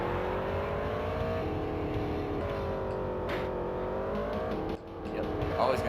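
NASCAR race car engines in NASCAR 2000 drone loud and steady as a pack, pitch sliding upward in waves as they accelerate off the start, briefly dipping near the end before building again.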